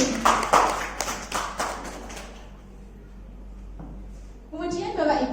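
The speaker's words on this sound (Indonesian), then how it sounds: "Tepuk tangan dulu untuk Bapak Ibu guru di sini." An audience of teachers at a school training session gives a brief burst of applause, sharp close claps in the first couple of seconds that fade out, followed by a voice starting to speak.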